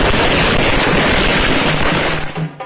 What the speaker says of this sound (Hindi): ढोल नगाड़े के साथ जमकर आतिशबाजी